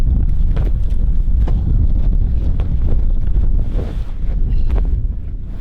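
Strong wind blows steadily across the deck of a sailing catamaran off New Zealand, buffeting the microphone loudly with a constant roar and faint water wash underneath, no voices.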